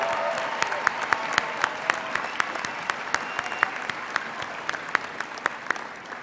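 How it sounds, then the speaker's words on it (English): Audience at a Fort Lewis College spring commencement applauding award winners, a steady dense roll of clapping with distinct sharp claps standing out, moderately loud and sustained throughout. "Audience, please join me in giving these winners a round of applause."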